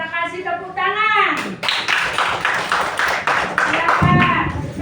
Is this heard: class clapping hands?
yes